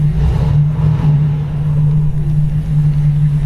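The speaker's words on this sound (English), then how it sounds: "You just push the gas and it starts." A 1953 Buick Super convertible with its first-year V8 runs loud and close, a steady deep rumble holding an even idle-like drone throughout.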